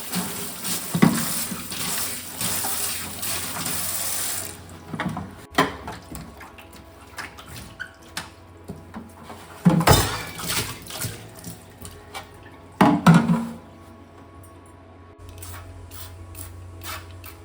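Kitchen utensils are rinsed under a running tap, with a soft constant water hiss broken by scattered clinks and knocks of metal spoons nearby.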